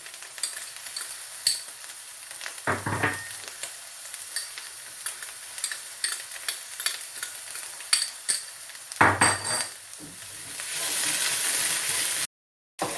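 Onions, garlic, ginger and chillies stirred in a hot pan for fish masala, a steady soft sizzle with scraping spoon strokes and occasional clinks of utensil on metal, close and fairly quiet.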